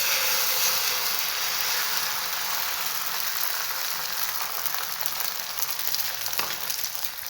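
Beaten egg hits a hot pan for a Maggi omelette and sizzles steadily and loudly, a continuous bright frying hiss with no talking.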